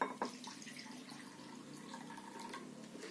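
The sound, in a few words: primary effluent poured into aeration tank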